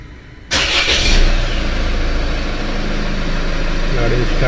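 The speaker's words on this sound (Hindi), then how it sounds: "गाड़ी को स्टार्ट करते हैं।" A Land Rover engine cranks and catches about half a second in, then settles into a steady idle that carries on to the end. The engine is loud and close, and a voice may be faintly present.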